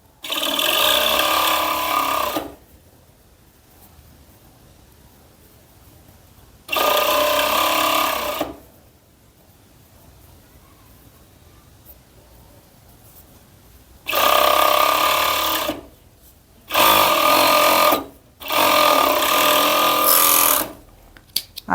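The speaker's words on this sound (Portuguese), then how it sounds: "Costuro um pedacinho para segurar e agora é só esticar esse punho." A sewing machine stitches the cuff of a child's long-sleeved pajama in several loud, close bursts of fast mechanical whirring, separated by quiet pauses.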